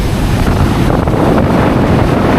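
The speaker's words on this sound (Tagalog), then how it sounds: "Ito, dire-diretso ang takbo dito. Paglaki ng alon." Big sea waves surging onto a shore where houses are being damaged, a loud roaring wash of surf buffeted by heavy wind noise on the microphone, continuous and close with no talk.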